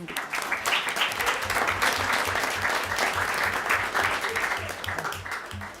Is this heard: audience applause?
yes